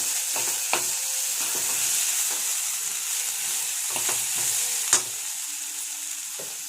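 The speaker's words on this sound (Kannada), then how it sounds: "ಅದನ್ನ ಹಾಕಿ ಫ್ರೈ ಮಾಡೋಣ ಚೆನ್ನಾಗಿ" Sprouted horse gram fries in a pan with a steady, close sizzle, broken by a few sharp stirring scrapes and clicks, with no one talking.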